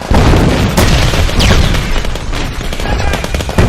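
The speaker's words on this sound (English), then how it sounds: "a bomb goes off and the firing resumes" Bomb explosion and sustained gunfire from a film battle scene, a loud dense barrage of rapid shots and booms continuing without pause throughout.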